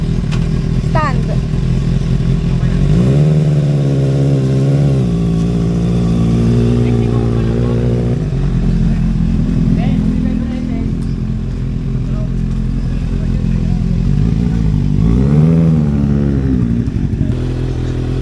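A 2025 Kawasaki ZX6R with a Boris Performance exhaust rides through first and second gear, its engine rising in pitch as it revs and then dropping at each shift. The loud, close exhaust note sweeps up several times, with a voice talking over it.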